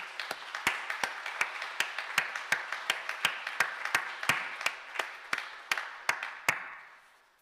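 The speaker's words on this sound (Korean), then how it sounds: "우리 따뜻한 박수를 좀 보내드리면 좋을 것" A church congregation during a Sunday service claps in a steady, even rhythm, each sharp clap distinct and fairly quiet, the sound tapering off at the end with no talk over it.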